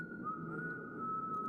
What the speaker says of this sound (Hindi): सीटी बजा रहा है।